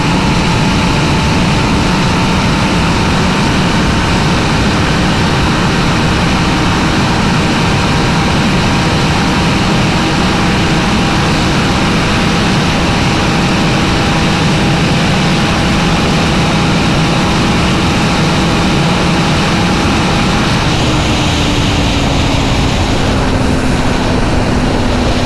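A Kawasaki Z900 naked motorcycle runs flat out at about 240 km/h on the autobahn, its engine a steady, loud drone mixed with heavy wind roar that continues unbroken from start to finish.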